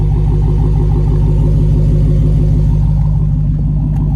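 2023 Dodge Challenger SRT Redeye WideBody with its 6.2-litre supercharged engine idling, a steady deep throbbing rumble that stays loud and close throughout.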